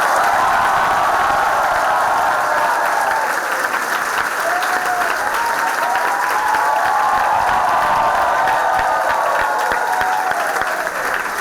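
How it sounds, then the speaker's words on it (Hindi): A large audience gives loud, sustained applause to welcome hundreds of successful students at a NIMCET results celebration, a dense wash of clapping that stays strong and even for the whole stretch. "सभी लोग जोरदार तालियों से स्वागत कर रहे हैं"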